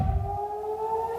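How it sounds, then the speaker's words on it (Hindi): An air raid siren sounds in a wartime setting, a steady wailing tone held alone for a brief moment after a low rumble at the start. "सिर्फ सायरन बजाने का काम है कि भाई जहां जगह मिले ना वहां छुप जाओ"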